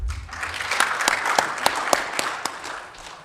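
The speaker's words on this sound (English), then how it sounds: "he deserves a big hand" A conference audience at a regional meeting of anti-corruption agency heads breaks into steady applause, a dense patter of many hands with a few sharper claps standing out, sustained for a few seconds before tapering.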